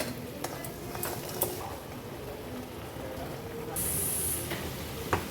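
A paste of cumin, coriander and fennel with salt and sugar sautés in a pan for a pointed gourd dish, giving a quiet, low sizzle that rises into a sharper, brighter hiss partway through, with a few light knocks.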